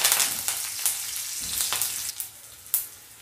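Crushed garlic and curry leaves fry in hot oil in a pan, a steady bright sizzle with a few sharper crackles and stirring scrapes, close and alone.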